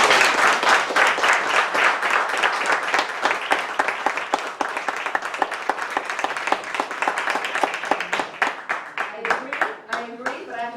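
An audience at a commission meeting applauds steadily for about ten seconds, dense close clapping that thins toward the end as a voice begins speaking.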